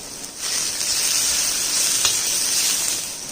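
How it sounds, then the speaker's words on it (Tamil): Pounded spices and aromatics sauté in hot sesame oil, giving a steady, fairly loud hiss and crackle that holds evenly with no voices. "நம்ம வதக்கிக்கிறோம்"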